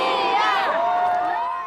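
A huge crowd of tens of thousands of delighted Sevastopol residents cheering: a dense, loud, continuous roar of voices with high shouts and whoops rising and falling throughout.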